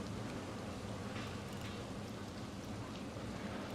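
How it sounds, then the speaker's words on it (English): Steady, even rain hisses across the scene in the park-building game Planet Coaster 2, a continuous broadband patter with no voices and no breaks. "Hey, we're back to rain again."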